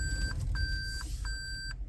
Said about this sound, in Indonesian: Ini kan karena pakai sensor, nanti kalau dekat apa ya takut dinabrak gitu ya, bunyi di alarmnya gitu ya.